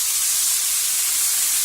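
Water poured into a hot pan with a large seared piece of chicken sets off a loud, steady steaming hiss, close and continuous throughout.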